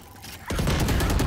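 Rapid gunfire in the shooter game Valorant erupts after a quiet half second, a dense loud burst of shots that continues to the end.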